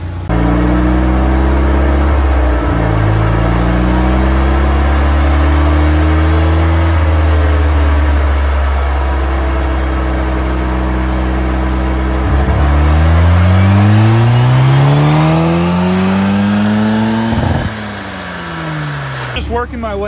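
Turbocharged Mazda Miata engine being tuned with the boost turned up, a loud close drone of rising and falling revs through several pulls and gear shifts, with a faint whistle-like whine riding on top.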